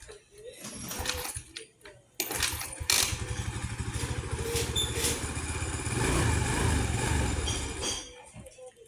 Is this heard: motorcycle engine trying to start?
yes